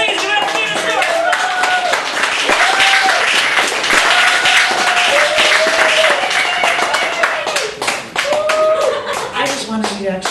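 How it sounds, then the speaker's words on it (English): Audience applauding after a poetry feature at a Chicago cafe gallery cabaret, loud close crowd clapping throughout, with voices and cheers mixed in over it. "I just wanted you to actually be up here for your applause"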